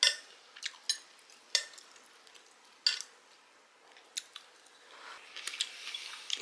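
Someone chews a bite of beef ribeye close up, with soft wet squishing and intermittent clicks of cutlery or dishes in a quiet room.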